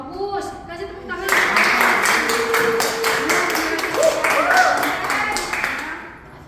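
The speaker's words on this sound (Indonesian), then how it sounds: "Bagus, kasih tepuk tangan." A classroom group in a university law lecture breaks into applause, a dense burst of clapping that starts after a brief moment of talk and continues steadily for several seconds before tapering off.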